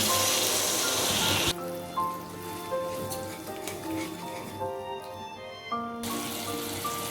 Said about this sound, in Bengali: তেল ছাড়তে শুরু করলে মশলার বাটি ধোয়া জলটা দিয়ে দিচ্ছি